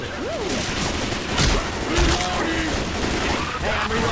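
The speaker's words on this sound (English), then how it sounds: "God damn it, stop shooting me!" Gunfire in the zombie shooter Left 4 Dead 2, rapid loud bursts and crashes filling the clip, with players shouting over the shooting.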